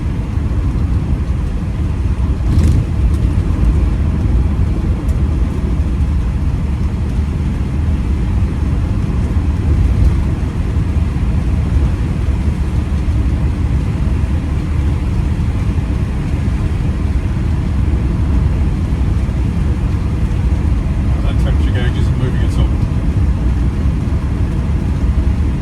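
A 1969 Rover P5B coupe cruising at a steady 3,500 RPM, just over 60 mph: loud, constant low engine drone and road rumble from inside the car, unbroken and even throughout.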